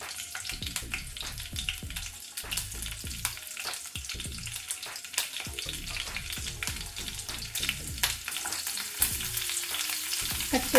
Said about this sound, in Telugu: ఇలా కొంచెం ఇది వేగిన తర్వాత ఇప్పుడు ఇందులో ఒక 2 పచ్చిమిర్చి ముక్కలు,